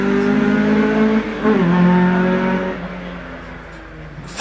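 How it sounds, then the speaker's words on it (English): Peugeot 106 GTI rally car pulling away from the start line at the Prescott hillclimb, a loud close engine revving hard, climbing in pitch, dropping at a gear change, then fading as the car draws off. "Samantha Lester heads away in the Peugeot 106"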